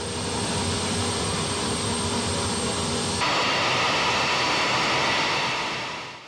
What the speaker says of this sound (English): He taxied out, and it took him a while to get enough RPMs, enough thrust to get this thing pushed and on its way.